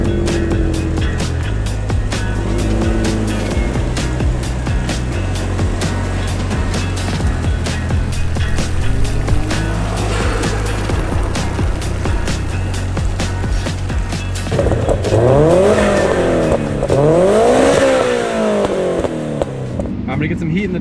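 A rare JDM Subaru driving on a track, its engine a loud, steady drone that shifts pitch through gear changes, then rises and falls sharply in revving sweeps toward the end, with wind and road noise throughout.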